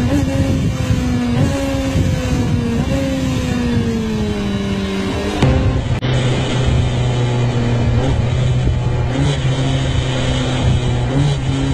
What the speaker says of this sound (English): Downshifting without the clutch is another way of handling it. Careful timing of the throttle blip and the gear lever makes it surprisingly easy and smooth